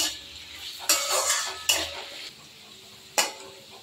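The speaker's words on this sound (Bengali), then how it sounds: "দিয়ে আলুগুলো একটু ভেজে নিই।" Potatoes frying in a pan with a little salt and bay leaf, heard faintly as soft sizzling beneath a few sharp metallic clanks of a utensil striking the pan.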